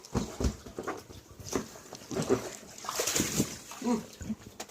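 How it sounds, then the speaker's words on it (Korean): Water splashes and sloshes on a backyard water slide in repeated uneven bursts, close by, mixed with children's and adults' voices talking throughout. "물 뿌려줘."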